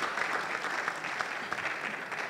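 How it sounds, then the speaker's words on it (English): Dense, steady applause from a conference audience honoring panel speakers at a Ghanaian business financing forum, many hands clapping continuously at an even level throughout. "Let's give a round of applause to our gentlemen here."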